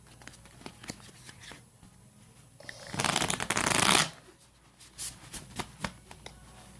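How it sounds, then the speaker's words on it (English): A deck of Energy Oracle cards being shuffled by hand, a dense riffling burst of about a second in the middle, with scattered soft card taps and handling clicks before and after, close and fairly quiet. "I'm going to pull out a card from the Energy Oracle deck."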